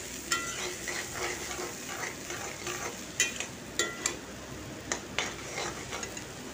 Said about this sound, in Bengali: এরপর আবারও আমি কিছুক্ষণ ভালো করে মিশিয়ে নেব মটরশুঁটির সাথে।